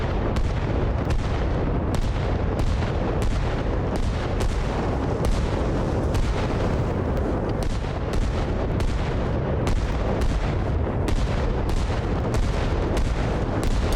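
An AI mortar barrage in Arma Reforger pounds buildings, a steady run of heavy booming impacts and blasts repeating roughly every half second, loud and rumbling with no talk.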